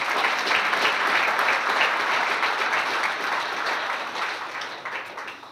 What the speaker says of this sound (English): You can clap that too.